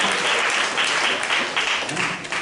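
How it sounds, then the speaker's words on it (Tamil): Audience applause in a church during a Tamil New Year sermon, a dense, steady wash of clapping that fills the whole stretch at close range and fairly loud. "கைதட்டு, கைதட்டு."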